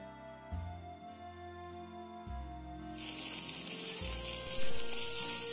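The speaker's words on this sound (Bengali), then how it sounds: "সর্ষের তেল অ্যাড করব মাছটাকে ভেজে নেওয়ার জন্য" A low steady hum fills the first few seconds, then fish hits hot mustard oil in a kadai and a loud, bright, continuous sizzle takes over and holds to the end, with no voices.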